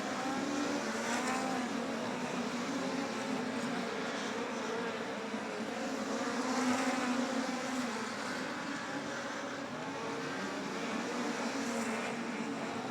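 Midget race cars circle Humboldt Speedway in a POWRi National and West league race, a continuous buzzing engine roar rising and falling as the pack passes, heard from a distance.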